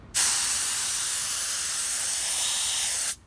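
Compressed air hisses steadily into a lawn mower tire being seated on an eXmark Metro mower, one loud continuous broadband rush lasting about three seconds, starting and stopping abruptly with no talking.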